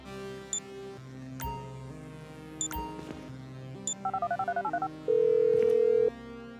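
A phone in the game GTA 5 dials out: a few scattered electronic beeps and tones, then a quick run of keypad dialing blips and a steady held ringing tone lasting about a second. The sounds are clean and synthetic.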